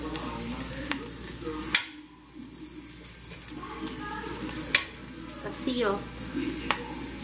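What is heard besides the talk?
bacon frying in a pan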